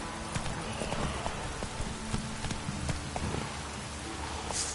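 Roach, the horse in The Witcher 3, gallops with steady hoofbeats over a rain-like wash of ambient noise, the clip-clop fairly close and continuous throughout.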